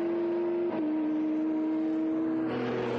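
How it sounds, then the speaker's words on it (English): A BMW Z4 race car at Silverstone during a Britcar 24-hour endurance race passes at speed, a steady droning engine tone with a slight pitch drop as it goes by, loud and continuous with no talk. "There's the BMW Z4 going by."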